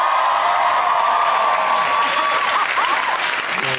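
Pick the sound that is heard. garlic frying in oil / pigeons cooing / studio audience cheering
studio audience cheering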